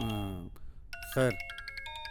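A mobile phone rings outside a shuttered cafe in a Hindi-dubbed South Indian film: a bright, repeating electronic ringtone of short pulsed tones starts after a man's brief speech, with another short spoken word over it.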